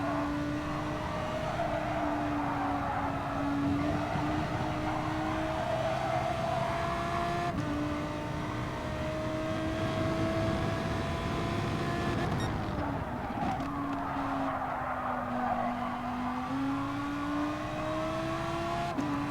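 Gr.3 race cars lap Catalunya in Gran Turismo Sport, engines droning steadily with rising pitch through the gears, a sharp downshift and braking dip midway, then revving back up.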